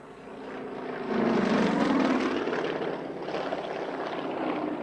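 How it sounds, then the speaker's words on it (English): A heavy Russian all-metal aerobatic plane drones steadily overhead at an airshow, its propeller engine swelling as it passes and then holding a strong, even roar during a downwind approach. "But certainly one of the biggest acrobatic planes here today."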